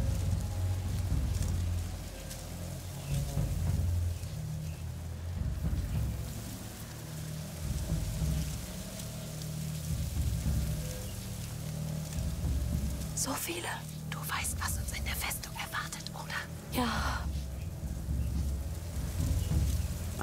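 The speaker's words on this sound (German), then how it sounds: "Da kommt auch der Sturm." Rain and an approaching storm in the video game A Plague Tale Requiem: steady rainfall hisses with low rumbling thunder throughout, and a sharper crackling burst of thunder near the end, while a voice murmurs faintly underneath.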